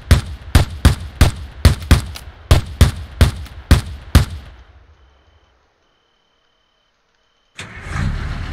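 A vehicle-mounted gun fires in the Decimation video game, about a dozen loud, close shots at a fairly even rhythm. The shots fade into silence, then a low rumble starts near the end.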